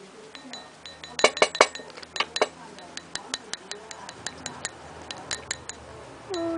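A spoon clinks repeatedly against a glass while a colourful liquid mixture is stirred: a run of bright, quick taps close up, uneven in rhythm, ending in a brief swish.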